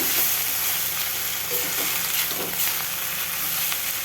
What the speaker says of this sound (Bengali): নাড়তে নাড়তে এটা ভালোভাবে ভেজে নিতে হবে